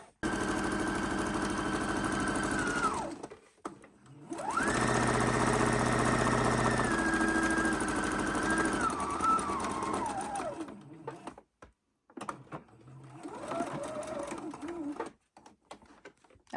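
A sewing machine stitches the edge of an apron in three runs: two long steady whirring stretches, then a shorter burst after a pause, with quiet gaps between and no talk over it.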